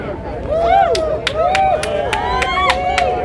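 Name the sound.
crowd applause at a rally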